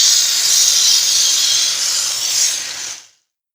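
Blended tomatoes hit a hot pan for homemade pizza sauce, giving a loud, close, steady sizzle and hiss that fades out after about three seconds.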